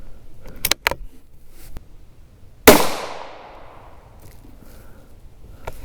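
A .17 HMR rifle fires a single sharp, loud shot outdoors, with a short rolling echo trailing after it, preceded by a few faint clicks and quiet handling sounds.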